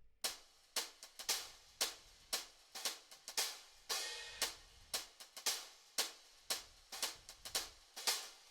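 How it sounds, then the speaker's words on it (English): Crisp lo-fi house hi-hat sample hits repeat in a steady, slightly swung pattern, each a short bright tick with a quick decay, alone and fairly quiet. "this is what the hat sounds like"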